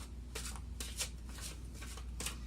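Tarot cards are shuffled by hand in repeated soft riffling bursts, about six quick rustles at an uneven rhythm, close and fairly quiet with no talking.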